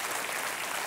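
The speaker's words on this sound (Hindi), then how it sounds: "तालियां बजती रहें देवियों और सज्जनों" Studio audience applause on a Hindi TV quiz show, Kaun Banega Crorepati season 5, right after a Maharashtrian Lezim dance performance: a dense, steady wash of clapping with no voices.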